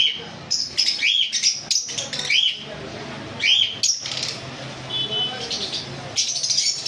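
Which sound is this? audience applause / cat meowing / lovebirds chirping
lovebirds chirping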